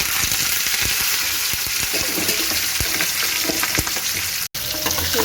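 Spiced masala mixture tipped into a hot tempering in a pan and stirred, giving a loud continuous sizzle and frying hiss with scraping stir strokes, a brief break near the end, then sizzling resumes.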